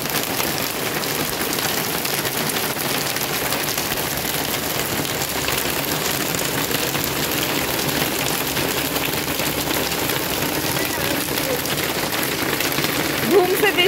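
Heavy rain pours down steadily and loudly throughout, a dense unbroken hiss of drops on surfaces with no letup, and a voice speaks faintly beneath it at times.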